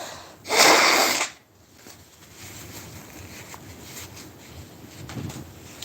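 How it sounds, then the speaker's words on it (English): A person blows their nose once, a short loud forceful honk up close, followed by quiet breathy rustling and faint background sounds. "I gotta blow my nose"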